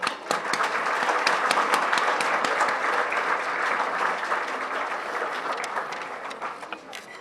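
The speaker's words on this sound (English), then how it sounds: "Let's give everyone a round of applause." A community gathering of volunteers and supporters breaks into sustained, even applause that holds steady throughout and tapers slightly at the close.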